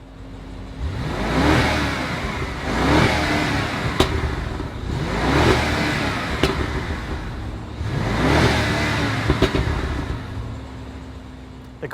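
A 2015 BMW Alpina B6 engine revs up in four repeated bursts, each rising and falling smoothly, loud and close, with no talking.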